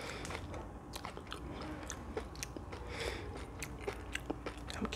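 Close, quiet chewing and biting of Korean glass noodles, with soft wet crunches and slurpy mouth sounds repeating steadily throughout and no talking.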